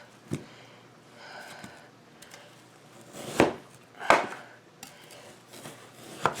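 A knife works through partly frozen roast pork, giving scattered sharp cuts and knocks on a board, two louder chops standing out among quieter scraping and tapping in a quiet kitchen.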